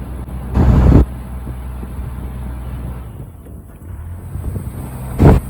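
Wind buffets the microphone in heavy low gusts beside reeds on a waterway, with two strong blasts standing out against a steady blustery rumble.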